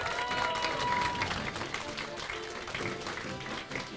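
An audience applauds as Snegurochka is welcomed on stage at a stage show, a dense, steady clapping crowd close by that fades slightly toward the end, with a voice speaking over it.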